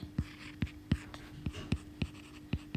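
Pen strokes writing chemistry formulas by hand, a run of sharp taps and short scratches in uneven rhythm, close and fairly loud, with a steady low hum underneath.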